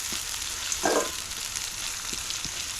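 Onions sautéing in oil in a home kitchen, a steady close sizzle with a short louder burst of crackling partway through and a few faint taps.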